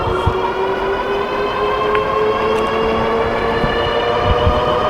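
Ariel Rider Grizzly V2 e-bike pushing toward top speed on its front motor, a steady high electric motor whine with rising tonal lines over constant wind and road rumble, loud and continuous.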